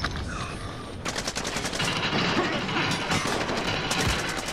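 Gunfire in Call of Duty: Modern Warfare, a dense run of overlapping shots at moderate level beneath a noisy battle backdrop, with players talking over it.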